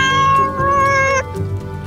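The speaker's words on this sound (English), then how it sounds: "Purple cat, what do you see?" A cat gives a long, drawn-out meow in a cartoon storybook read-aloud, loud and close over gentle background music, fading off near the end.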